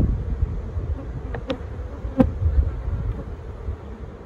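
Honey bees from a queenless hive buzz in a dense, steady drone while frames are shaken out, a close, continuous hum with a few brief higher tones rising above it.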